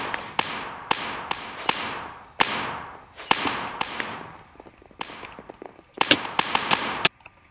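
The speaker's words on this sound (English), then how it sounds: "Machine gun shotgun." Machine gun and shotgun fire in a multiplayer shooter video game: sharp, loud gunshots, some in quick clusters and some spaced apart, over a busy background, with no talk.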